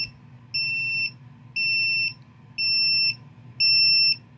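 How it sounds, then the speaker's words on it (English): Backup beeper on a Zubu wheelchair joystick controller with Walker motors, four evenly spaced half-second electronic beeps, clear and fairly loud over a low motor hum. "It's got backup beeper."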